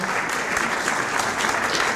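Steady, dense applause from a graduation celebration crowd honoring mentors at the SIUE International Student ceremony, filling the room evenly from start to finish without any talk.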